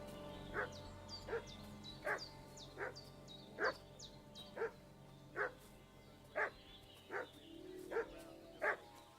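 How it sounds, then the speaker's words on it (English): A dog in the medieval role-playing game Kingdom Come: Deliverance II barks repeatedly at a steady rhythm, about ten sharp barks at moderate distance, with faint birdsong and ambient game sound underneath. "What's that dog making such a fuss about?"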